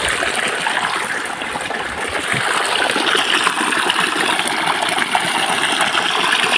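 Irrigation water runs steadily along a farm channel, a continuous close rushing and trickling flow with light splashes and no break.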